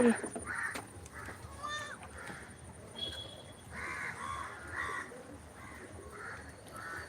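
Several crows caw repeatedly at a moderate distance on a farm, harsh calls coming in irregular clusters over faint background noise.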